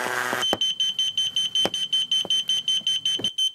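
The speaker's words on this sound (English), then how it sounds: "You can test the alarm function if you like by putting your finger in the way." A rapid, steady train of high-pitched electronic beeps from a model railway point actuator's obstruction alarm, loud and close, repeating evenly for several seconds before stopping.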